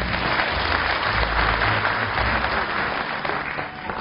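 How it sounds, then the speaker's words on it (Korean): An audience at a university entrance ceremony applauds to welcome the senior professors, a broad, sustained burst of many hands clapping together at steady volume. "소개해드린 대로 박수로 맞으시기 바랍니다."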